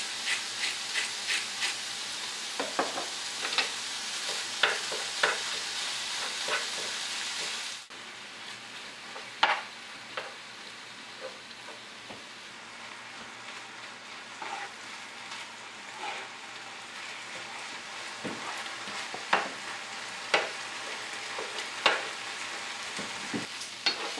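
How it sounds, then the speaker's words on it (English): Ground turkey browns in a hot pan with a steady, close sizzle and hiss, broken by frequent stirring scrapes and clicks; the frying softens a little partway through but carries on without any talking. "I'll start to brown up our turkey"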